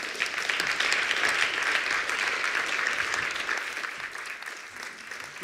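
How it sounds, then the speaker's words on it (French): Audience applause for a speaker at a university entrepreneurship and innovation hub launch, a continuous wash of many people clapping that starts full and slowly tapers off over several seconds. "Je vous demande de faire un tonnerre d'applaudissements pour Sophia Demeyer."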